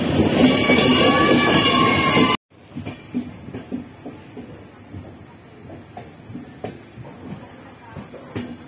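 A passenger train runs on rails toward Kukke Subrahmanya. A loud, sustained tonal blast sounds first and cuts off abruptly, followed by quieter, irregular rattling and clicking of the carriages.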